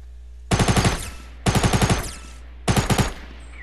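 A Fortnite gun fires in three quick, loud close-range bursts of about five or six rapid shots each, separated by short pauses.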